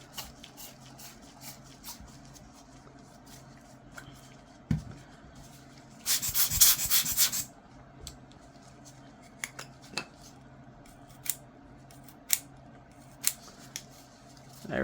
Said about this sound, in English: we'll put the lens name ring in here, and then use our lens tool. Tighten that down